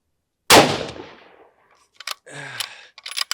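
A single sharp rimfire rifle shot at an outdoor range, a loud crack with a quickly decaying tail, followed by faint clicks and brief rustling handling noises.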